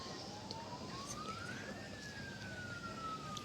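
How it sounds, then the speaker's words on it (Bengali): A police car siren in the video game Vegas Crime Simulator wails steadily, rising and then slowly falling in pitch, heard at moderate distance over a constant hum. "গাইস দেখো কতগুলো পুলিশের গাড়ি আসছে।"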